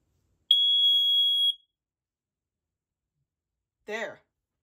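An original 1997 Kidde NightHawk KN-COPP-3 carbon monoxide alarm sounds a single loud, steady test tone lasting about a second, followed after a pause by a short burst of a voice.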